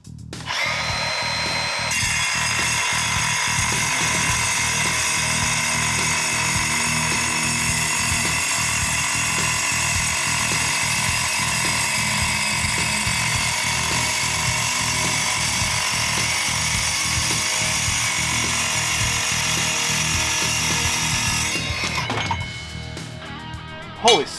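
Milwaukee M18 Fuel cordless metal cutting saw slicing about 4.5 inches through 3/8 steel plate in a bench vise, a loud, close, continuous high grinding whine that stops abruptly near the end.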